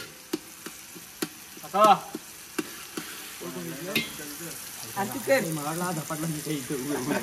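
Chilies fry in a pan, giving a soft sizzle with scattered clinks and scraping stirs, fairly quiet, while people talk nearby over the cooking.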